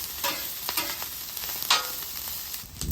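Metal spatula scraping and spreading rice across a hot griddle with steady sizzling, in repeated short strokes that sound close and fairly loud.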